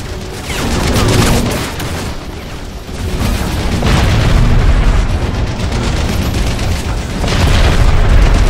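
Explosions in the video game Crysis, loud rumbling booms and crackling bursts that roll on almost without pause, swelling and fading in heavy waves.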